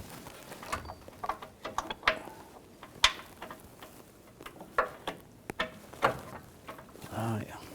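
Ratchet tightening bolts on the steering rack of a 2014-2018 GMC Sierra 1500 5.3L V8: quiet, irregular clicks and light metallic clanks, close by, scattered through the clip.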